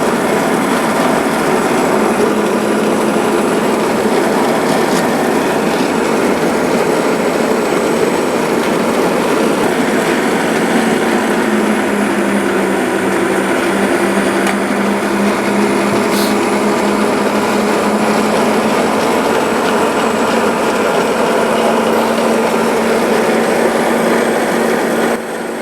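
Kitchen blender grinding boiled spinach into a smooth paste for palak paneer, a loud continuous high-pitched motor whine with steady grinding texture, running unbroken the whole time.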